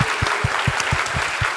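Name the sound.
applause for the teacher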